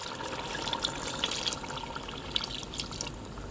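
Water from a glass poured into a handi of cooking chicken for a chana dal chicken dish, a steady close splashing and trickling pour with no talk.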